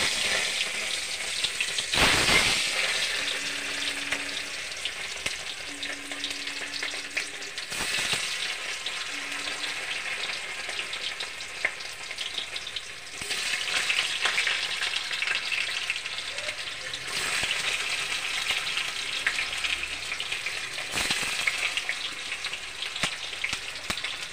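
Paneer frying in hot oil in a wok, a steady close sizzle running throughout with a few sharper crackles and pops, no talk.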